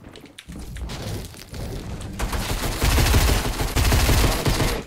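SMG gunfire in a multiplayer video game, starting with muffled thumps and rumbling, then swelling into loud, rapid bursts of close automatic fire that rattle on steadily toward the end.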